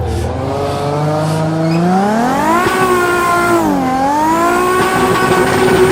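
A car engine drifting through smooth slides, its revs falling as the throttle lifts and then climbing again as it reopens, with rising and dipping harmonic tones and steady tire noise, loud and close with no talk.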